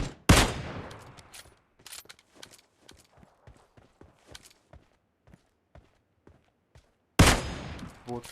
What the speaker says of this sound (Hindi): सामने की तरफ हमें बोट फायर आ रहे हैं